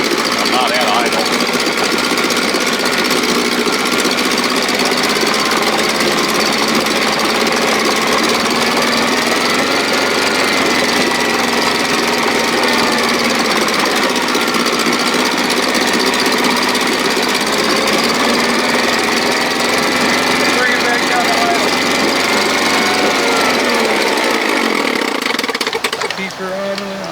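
A 1957 Sea King 5 hp outboard motor runs steadily at a raised throttle in the start position, a loud continuous engine drone with a rattling tone, dropping off near the end.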